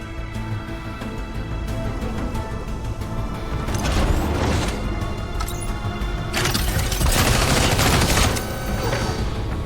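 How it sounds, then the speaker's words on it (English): Sustained volleys of gunfire from the mech combat game Mecharashi, dense bursts building in loudness over a steady mechanical drone with heavier flurries midway and near the end. "Don't get caught by retaliation fire!"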